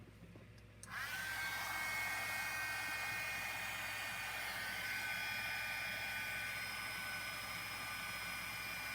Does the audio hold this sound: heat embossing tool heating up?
yes